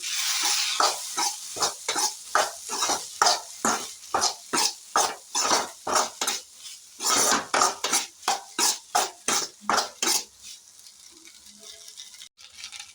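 Cooked rice and tomato are mixed in a pan with rapid, rhythmic spoon strokes, a close run of dozens of scraping clatters that stops near the end, leaving quiet.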